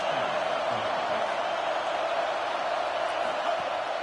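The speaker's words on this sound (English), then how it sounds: "this home crowd getting involved right from the start." A stadium home crowd in a college football video game, Ohio State versus Michigan, roars as a steady, dense wash of noise without pause.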